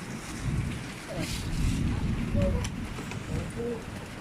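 Steady, dense heavy downpour in the Davao uplands fills the scene with a low rumbling wash throughout, and a few faint voices surface now and then beneath it.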